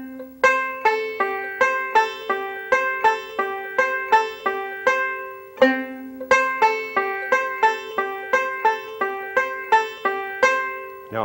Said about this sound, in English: and then I just roll forward, thumb index middle over and over again